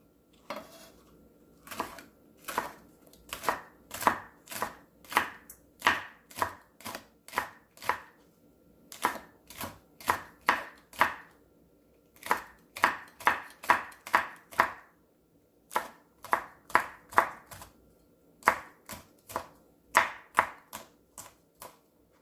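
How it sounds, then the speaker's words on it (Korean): Knife chopping chives and red chili on a cutting board for kimchi, rapid rhythmic close knocks in bursts separated by short pauses, no talking. "부추에 이렇게 다 썰어서 넣어주세요."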